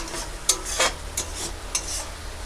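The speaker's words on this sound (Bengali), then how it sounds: "দেখো আমাদের মশলাটা কষেছি, তার থেকে তেল বেরিয়ে গেছে।" Mustard masala paste for shorshe pabda fish curry is stirred and fried in oil in a pan. Close scraping spoon strokes repeat every half second or so over a soft, steady sizzle.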